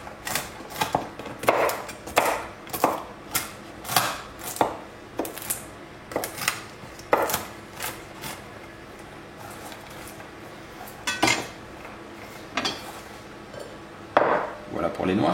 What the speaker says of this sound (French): On prend les noix directement sur la planche, on va les concasser grossièrement